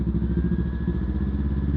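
A Yamaha R3 motorcycle fitted with a Coffman's slip-on exhaust runs with a steady, deep engine note, loud and close, holding an even rumble with no talking.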